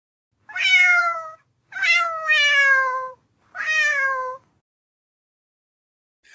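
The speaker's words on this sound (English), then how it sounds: "I know if I play a cat video" A cat in a video played back meows four times in drawn-out, clear calls with short gaps between them, fairly close and with no other sound, before falling silent at the end.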